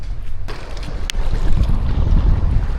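Strong wind at the seaside in Tacloban during ajing fishing, blustering and roaring steadily into the microphone with deep rumbling buffets and no voices.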